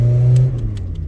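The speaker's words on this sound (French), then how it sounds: "Donc ça c'est le bruit de la saxo, c'est le rallye comme je vous ai dit Monte Carlo." Citroën Saxo rally car engine idling with a steady low drone, then a brief rev that settles back into a rough, uneven idle, close and loud.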